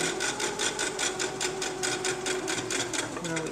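Sewing machine stitching a party napkin, a rapid steady mechanical chatter of needle strokes, close and continuous throughout.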